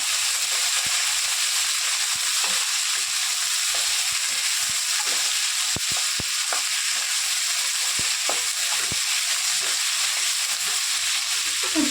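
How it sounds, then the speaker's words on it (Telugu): Sliced onions frying lightly in oil in a pan for an ivy gourd and onion curry, a constant close sizzle broken by scattered clicks and scrapes of stirring. "లైట్గా ఫ్రై చేసుకోండి సరిపోతుంది ఉల్లిపాయలు ఎక్కువ బ్రౌన్ కలర్ అవసరం లేదండి"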